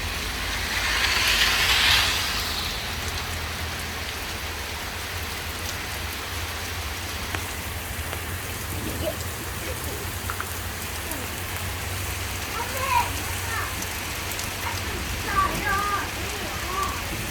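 Steady hard patter of hail pelting a surface in Saint Paul, Minnesota, with a loud clattering burst near the start and children's voices chattering faintly underneath.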